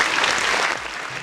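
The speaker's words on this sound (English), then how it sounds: "let me get a round of applause for the folks out here," A brief burst of applause during a live stream, dense and steady clapping that tapers slightly toward the end, no voices over it.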